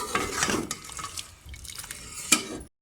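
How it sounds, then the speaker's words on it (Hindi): Water splashing and dripping as a pot of boiled pasta is tipped and drained, with clinks of metal cookware and a sharp clatter near the end. "पानी जो फालतू था वो निकाल दिया मैंने"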